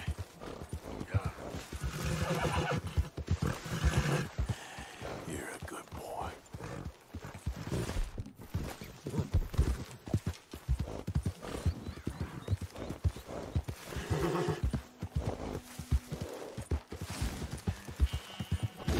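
A horse in Red Dead Redemption II clip-clops along with rhythmic hoofbeats and whinnies at moments, while someone talks intermittently over the game sounds.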